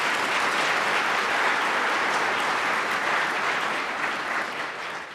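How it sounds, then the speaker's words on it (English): A dense, steady round of applause fills the hall at the Hennepin County State of the County event following a musical performance, holding loud and even before easing slightly toward the end. "Let's give another round of applause for that incredible performance."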